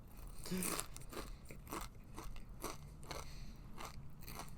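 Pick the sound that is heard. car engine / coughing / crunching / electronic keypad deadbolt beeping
crunching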